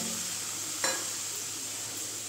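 Boiled potato and chickpeas being stirred into fried masala for Bengali chicken ghugni: a steady close sizzle with one brief scrape partway through.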